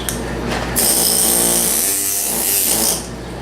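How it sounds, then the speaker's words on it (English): Steel chisel working a sculpture's coiled hair, scraping and grinding in a steady, continuous rasp at close range, loud throughout with a brief pause near the end. "I'm going to turn the chisel like this as I go up"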